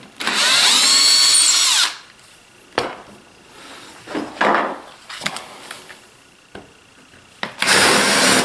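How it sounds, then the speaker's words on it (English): A power drill drives screws into a wooden tenon jig for a Shaper tool. Two loud whirring bursts come at the start and the end, with quieter clicks and handling knocks of wood in between. "And then screwing it in place."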